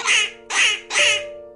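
A duck quacks three times in quick succession, loud and close, in a cartoon-style children's story about a duck family traveling on a river.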